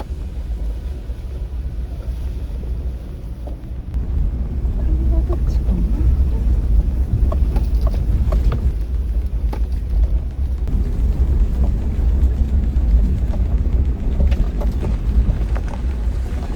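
A Toyota Land Cruiser 70 driving off-road through mud and water, a steady low engine rumble with gusty splashing and sloshing that grows heavier midway, close and continuous with wind buffeting the microphone.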